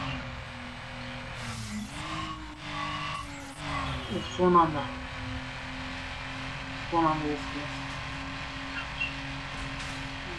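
Engine roar and screeching tire squeal from a fast car racing in Need for Speed Underground rise and fall in bursts, with someone talking over the game sound.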